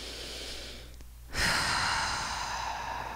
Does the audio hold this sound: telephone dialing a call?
no